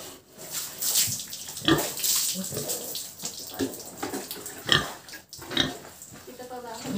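Water poured by hand over pigs on a backyard pig farm to cool them in hot weather, a splashing, gushing pour in bursts close by, with talking over it.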